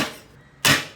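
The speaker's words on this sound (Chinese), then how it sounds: "大蒜拍哈" Garlic cloves smashed flat with the side of a kitchen knife on a chopping board while preparing stir-fried beef tripe with chili peppers: one soft knock, then a sharp, close thump, with no talk.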